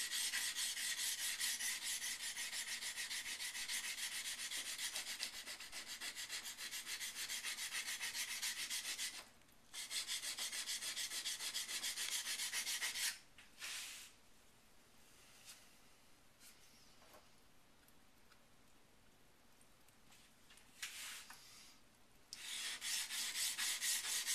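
A woodworking chisel is sharpened by hand without a jig, a steady close scraping of steel on a stone in long continuous passes with a few short pauses, no talking.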